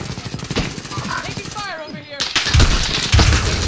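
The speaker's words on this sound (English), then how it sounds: "Taking fire over here." Rapid automatic gunfire in the shooter game Call of Duty Modern Warfare, rattling bursts close by, mixed with voices talking over the action and a short lull before heavier shots resume.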